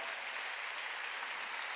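A church congregation applauding during a Wednesday worship service, a steady, fairly quiet wash of clapping with no speech over it.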